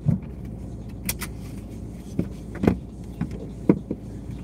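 Honda DC5 car being parked in a garage: a low engine rumble runs underneath, with scattered clicks and thumps from the car, close and moderately loud, with no talking.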